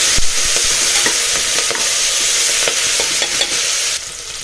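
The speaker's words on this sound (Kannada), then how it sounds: "ನಾನು ಫ್ರೈ ಮಾಡೋದಕ್ಕೊಂದು ಹಾಗೆ ಒಗ್ಗರಣೆಗೆ ಟೊಮೊಟೊ ಹಾಕ್ತಾ ಇದ್ದೀನಿ." Tomato pieces frying in hot oil for a tempering for a black chickpea gravy, a loud constant sizzle broken by repeated scraping and knocking of a spoon stirring the pan, with no voices.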